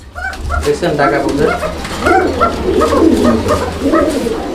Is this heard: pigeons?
yes